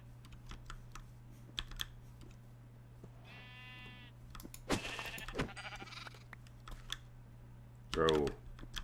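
A red sheep in the Minecraft video game bleats in short, quavering calls over steady keyboard typing and mouse clicks, with a low constant hum underneath.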